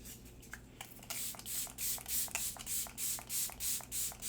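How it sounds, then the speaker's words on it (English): Milk Makeup Pore Eclipsing Setting Spray mists in a rapid series of short, close pumps, a steady rhythm of soft hissing bursts following a few faint clicks at the start. "I'm just going to finish my face with the Milk Makeup Pore Eclipsing Setting Spray."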